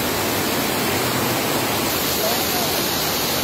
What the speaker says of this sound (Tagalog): maagos yung tubig dito sa kahoy.